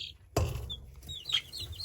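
Two-week-old frizzle chicks in a brooder give a few soft, high cheeps and clucks after a sudden thump, faint and sparse against a quiet room.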